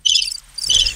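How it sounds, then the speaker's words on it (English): Two bursts of cricket chirping used as a comic sound effect, a dense high trill at the start and again near the end, with a brief gap between and no voices. "Nope, it's nothing. Crickets."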